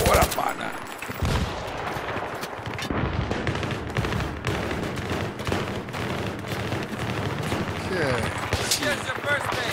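Heavy automatic gunfire in a Battlefield 3 Venice Unleashed team deathmatch against bots, a loud near continuous barrage of overlapping shots and bursts with a brief lull, while a player talks over it.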